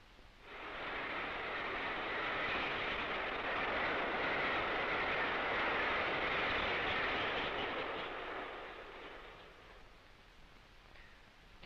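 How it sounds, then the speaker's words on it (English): A diesel-electric locomotive hauling an express train climbs out of a tunnel on a long gradient, a steady, distant roar of engine and rolling wagons that swells, holds, then fades. "a sight and a sound which provided ample evidence of the modern diesel-electric locomotive's capacity to cope with the long drag"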